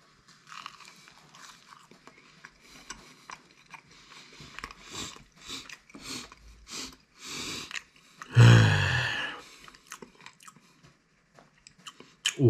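An oven-baked strawberry bread roll is chewed close to the mic, soft crunchy bites and chewing in an irregular rhythm, with one loud burst of noise partway through.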